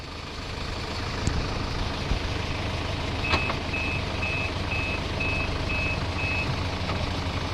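A car reversing on Magnetic Hill in Leh sounds a regular string of electronic reversing beeps over a steady engine and road rumble, with no one talking.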